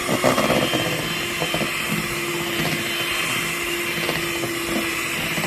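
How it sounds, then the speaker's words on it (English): An electric whisk beating double cream while making ghee, with a loud, steady motor whir and a thick churning texture that runs on without a break. "Keep whisking for another minute or so."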